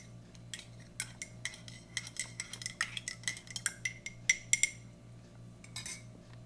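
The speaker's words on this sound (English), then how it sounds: "Try our coffee here. Better give it a stir just to make sure." A metal spoon stirs MRE coffee in a cup, giving a quick run of light clinks and taps that grow sharper toward the end, over a low steady hum.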